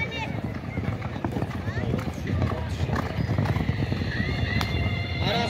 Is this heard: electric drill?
no